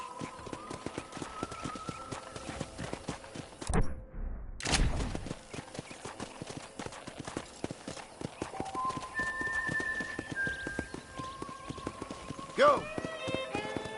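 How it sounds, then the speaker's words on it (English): Horse hooves clip-clop in a brisk steady rhythm on a ranch in the video game Red Dead Redemption, with a brief burst of noise partway through and occasional tones and a short whinny-like sound. "let's see if you can still ride a horse"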